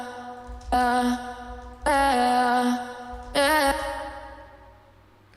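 Vocal phrases inside an Ableton progressive house production, three sustained harmonic notes each swelling in through a reversed reverb tail, spaced evenly with short gaps, fairly loud and alone with no talking.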